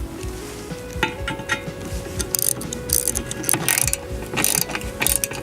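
Repeated ratcheting clicks from tightening the legs of an aluminum railing post, a close, steady rhythm of short mechanical bursts with no talking.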